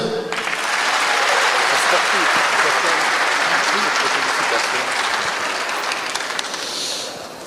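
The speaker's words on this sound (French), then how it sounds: "ça s'applaudit" Dense, sustained applause from a crowd at the 3-Handi Awards ceremony fills the room for about seven seconds, fading slightly toward the end.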